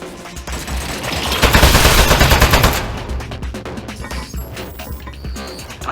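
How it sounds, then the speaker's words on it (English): Turret gunfire in the video game Aperture Desk Job blasts as a loud, dense burst of rapid automatic shots that swells in the middle and then tails into scattered crashes. "Oh jeez, it's got a gun! It's an ambush!"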